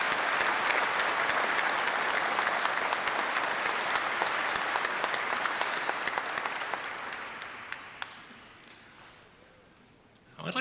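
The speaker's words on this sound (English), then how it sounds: "Let's have a round of applause." Audience applause at a Remembrance Day ceremony honouring the City of Hamilton Squadron, the Tigers: a dense, sustained wash of clapping that gradually thins and fades toward the end.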